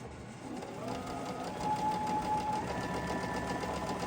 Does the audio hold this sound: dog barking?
no